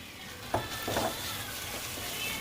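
Tomatoes and sauce for a chicken biryani sizzle quietly in a pan while being stirred, with a couple of brief scraping bursts over a soft, continuous fry.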